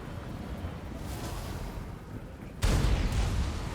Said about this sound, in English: let my Luminark fire one more time at her